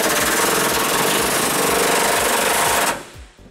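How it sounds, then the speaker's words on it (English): An impact-style socket tool hammers rapidly on an 18 mm bolt on a 2010 Ford Ranger frame, a loud continuous rattling burst that stops abruptly near the end. "we're going to loosen up the other bolt on our frame using an 18 millimeter socket as well"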